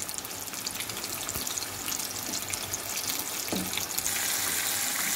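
Chicken pieces, KFC style and crispy, going into hot oil on high flame for deep frying, a continuous loud hissing sizzle with a few soft plops as pieces are dropped in.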